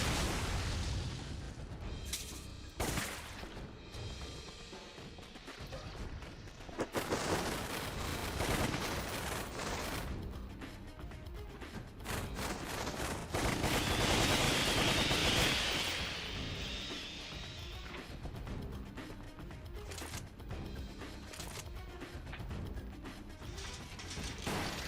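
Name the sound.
grenade explosion and gunfire in video game Resident Evil 0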